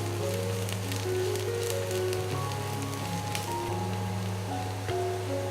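Chopped ginger and garlic frying in oil for chicken fried rice, a steady close crackling sizzle running throughout with faint clicks and a low hum beneath it.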